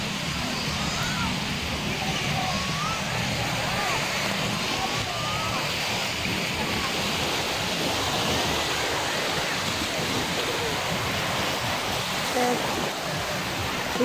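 Sea waves wash steadily on the beach at Morong, Bataan, a continuous broad hiss of surf with faint wind and a voice barely present beneath.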